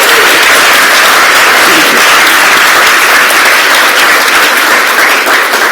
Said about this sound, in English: let's give a big applause for them.